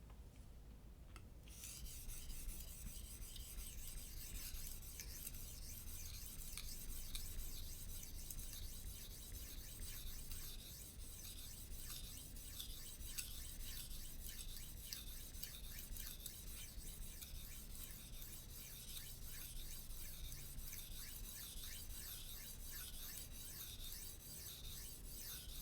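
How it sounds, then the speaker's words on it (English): A knife is stroked steadily across an Arkansas sharpening stone with little slurry, giving a close, continuous dry rasping scrape that repeats without pause throughout. "because we don't have a lot of slur here, you're hearing a lot more things that you normally would hear when sharpening"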